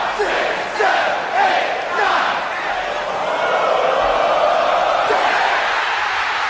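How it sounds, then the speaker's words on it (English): A wrestling arena crowd roars and chants in unison along with a referee-style count during a WrestleMania match, rhythmic rising shouts over a constant loud crowd din. "Whole crowd joining in right there."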